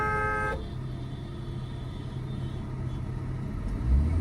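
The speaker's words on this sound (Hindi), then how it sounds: "लॉन्ग हॉर्न प्रेस करो" A car horn blares in steady traffic, a held note that cuts off about half a second in, followed by low engine rumble and passing vehicle noise.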